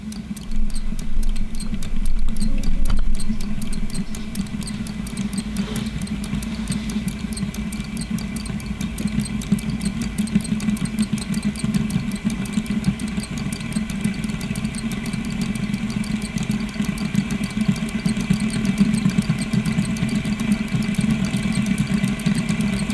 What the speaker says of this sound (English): if you give it a gentle push, it should start spinning on its own